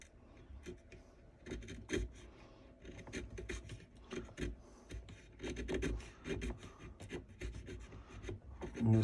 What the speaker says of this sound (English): just get my chisel sharpened up